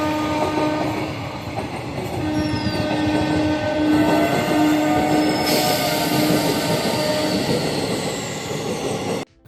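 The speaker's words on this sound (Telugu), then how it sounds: "పెద్ద కాకాని హాల్ట్ దగ్గర మనకు ఒక ట్రైన్ అయితే క్రాస్ అవుతుంది కదా" A train rumbles steadily past close by at Pedda Kakani halt on the Vijayawada–Guntur line, wheels squealing and screeching on the rails, with a faint horn tone, until it cuts off at the end.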